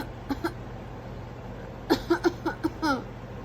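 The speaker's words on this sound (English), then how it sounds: "How do you fake cough?" A four-month-old baby making soft fake coughs, a couple of faint early coughs followed by a cluster of quick little coughs and vocal sounds, close and quiet over low background hum.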